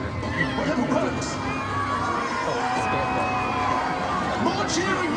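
A crowd cheers and shouts continuously at an outdoor event, a dense wash of voices with some children shouting, steady and fairly loud throughout.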